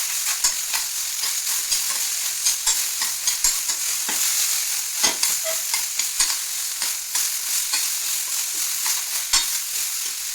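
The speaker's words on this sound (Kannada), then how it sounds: "ಇದಕ್ಕೆ ಟೊಮೆಟೊ ಹಾಕಬೇಕು, ಅದನ್ನು ಕೂಡ ಫ್ರೈ ಮಾಡಬೇಕು" Tomato for chicken gravy frying on a slow gas flame, a close steady sizzle punctuated by regular scraping stirs of a spoon against the pan, with no voices.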